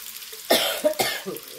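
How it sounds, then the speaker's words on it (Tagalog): Two harsh coughs close by from a sick person, one after another, followed by a softer throaty sound. "inuubo po kami"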